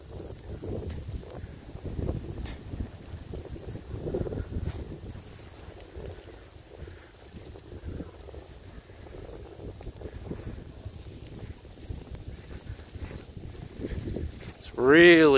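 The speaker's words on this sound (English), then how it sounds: "It's really coming down, definitely 1 to 2 inch per hour snow rate here." Wind roars through an intense snowstorm in Phillipsburg, New Jersey, with heavy snow falling; low gusts buffet the microphone in uneven surges, swelling and easing over the whole span, with a sharp louder burst at the very end.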